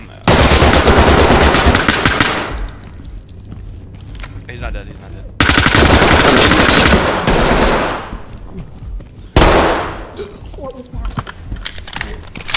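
Machine gun fire in a video game, with long loud sustained bursts of rapid gunshots separated by brief pauses, close and dominant, with voices talking in between.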